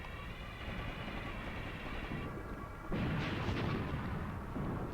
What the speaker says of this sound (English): It seems a bigger gun, although generally speaking the explosions in this seem somewhat exaggerated sometimes.